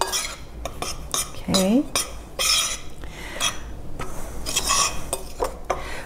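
Dry ingredients for gluten-free amaretti cookies being stirred together in a bowl, with irregular metallic clinks and scrapes of a utensil against the dish and one brief spoken word.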